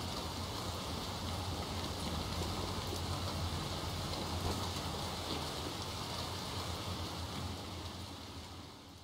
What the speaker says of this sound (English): get out of the rain. The rain stinks.